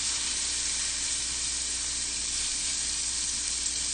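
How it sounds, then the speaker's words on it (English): Fish fillet searing flesh side down in a hot pan, an even, steady hiss of sizzling oil held at moderate level throughout, without voices or stirring. "So the flesh side gets the sear first."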